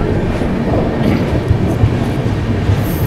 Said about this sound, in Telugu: శతాబ్ది కూడా వచ్చేసింది.